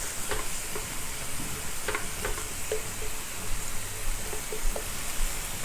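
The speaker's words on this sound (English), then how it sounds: "So we're going to keep mixing it and combining it." Ground meat and onions frying in a pan for cheesy macaroni, a steady hiss of sizzling with scattered soft scrapes and taps of a utensil stirring, close and unbroken by talk.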